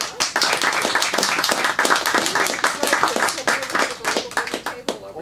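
Audience applause at an evening bookstore author event welcoming back crime novelist Peter Lovesey, a dense, steady patter of many hands clapping that runs for several seconds at close range.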